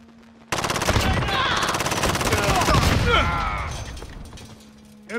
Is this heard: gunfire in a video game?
yes